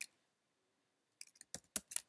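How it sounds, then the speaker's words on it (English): Keys on a computer keyboard are tapped during command entry on a Windows Server 2016 machine, a short burst of about six crisp clicks close up after a brief silence. "So we're going to be typing"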